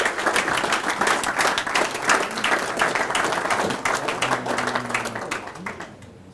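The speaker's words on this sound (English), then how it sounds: "how about a nice round of applause for Mr. Paul Herwald" Dense, sustained applause from an audience at a Legion banquet, loud and continuous before thinning out toward the end, with a faint voice underneath.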